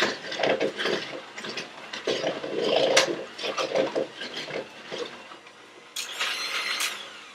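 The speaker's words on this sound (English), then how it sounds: "now you will take your mixer and cream them up" An electric hand mixer creams warmed butter in a mixing bowl, whirring in uneven bursts with scraping and clattering against the bowl, steady and close throughout with a louder stretch near the end.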